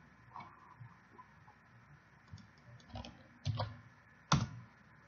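Computer mouse clicks at a desk during work in Visual Studio. A few soft, scattered clicks come first, then two sharper, louder ones near the end, against a quiet background with no speech.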